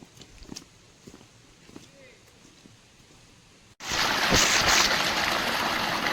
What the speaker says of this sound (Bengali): খুব ছোট্ট একটা ঝর্ণার স্রোত এখানে দেখতে পেলাম